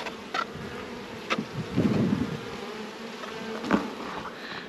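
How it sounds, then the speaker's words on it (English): Bees buzz around a beekeeping nuc box packed full of bees, a low steady hum with individual insects droning past close by and a few brief knocks, with no voices. "they filled a box up full of the brim with bees"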